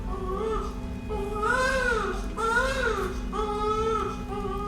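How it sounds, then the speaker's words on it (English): Thin, wavering wails like a newborn baby crying, several drawn-out rising and falling cries over a steady low background hum, moderately loud and continuous. "It sounded like a newborn baby crying."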